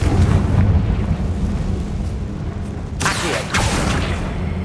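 A Confringo blasting spell goes off in Hogwarts Legacy, a loud rumbling explosion with a sharp crackling burst near the end, over a dense low game-world roar.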